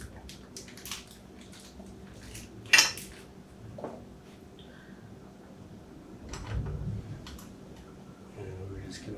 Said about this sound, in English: we're going to get our master link out